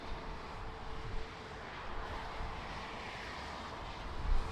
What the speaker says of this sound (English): It's a Boeing 737 Air Europa. It's on final.